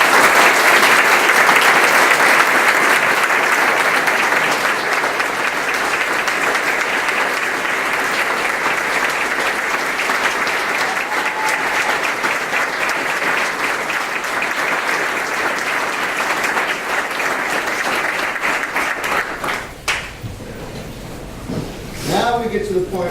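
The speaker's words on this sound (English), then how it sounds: "please give Mike Rinaldi a round of applause" Loud sustained applause from the audience at a town board meeting and police chief swearing-in ceremony, a dense even clapping that holds steady for about twenty seconds before tapering off into room noise and a few scattered sounds.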